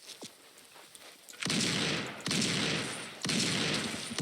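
Video game gunfire in a winter survival shooter: three loud, dense bursts of shots starting about a second and a half in, each sustained for nearly a second, after a quiet opening with a few faint clicks.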